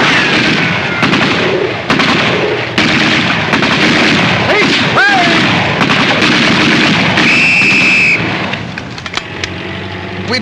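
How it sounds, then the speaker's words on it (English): Gunfire in an old Laurel and Hardy comedy film, loud bursts of shots and bangs crowding a busy, dense soundtrack with vehicle rumble, easing toward the end. "Stop shooting! We'll surrender."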